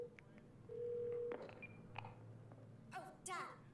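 Phone number being dialed in the video game Twelve Minutes: a quick run of short electronic key tones over a steady held tone and low room hum, fairly quiet, with a brief higher chirp near the end.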